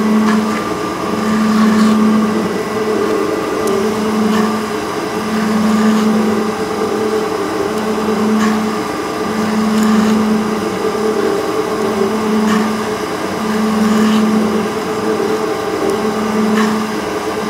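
A metal shaper resurfaces a small-block Chevy valve cover, a steady loud machine drone with a low hum that rises and falls in a regular cycle about every two seconds as the ram strokes back and forth.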